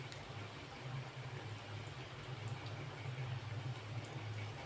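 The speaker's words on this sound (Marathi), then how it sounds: "आता हे तळून घेते मी" Soya seekh kebabs deep fry in hot oil, giving a continuous soft hiss and bubbling close by under a low steady hum, without any voices.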